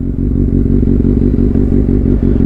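Kawasaki Ninja ZX-6R superbike exhaust rumbling loud and close, a dense throbbing low-end burble with rapid popping crackle running steadily throughout, no voices over it.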